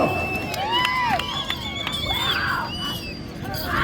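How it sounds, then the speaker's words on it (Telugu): Crowd cheering and shouting at an Ongole bull-pulling contest in Polakal, a lively continuous roar of voices with whistles and whoops rising and falling, loud and close, with no clear separate claps. "ఒకసారి గట్టిగా చప్పట్లు కేకలు ఇవ్వను."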